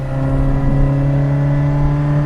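Engine of a 1979 Fiat 127 Sport revving while accelerating, a steady droning hum with a strong low tone, heard from inside the car, loud and unbroken.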